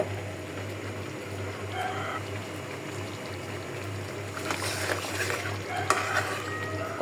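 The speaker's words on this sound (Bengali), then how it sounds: "কত সুন্দর করে কষানি হইতেছে" Beef stewed with cardamom and spices is stirred and fried in a home kitchen pan, giving a steady soft sizzle with occasional scraping stirs and clinks, moderately near, no talking.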